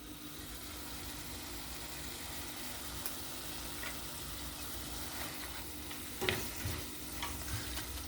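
Onions for a Sylhet-style lentil pulao softening in a pan, a steady low sizzle with occasional sharper scrapes of a stirring spoon, close and alone with no voices.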